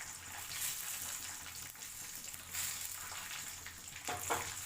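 Cashew nuts fry in ghee in a home kitchen pan for chicken biryani, giving a steady soft sizzle with faint crackles and a few sharper pops near the end, close and fairly quiet, with no talking.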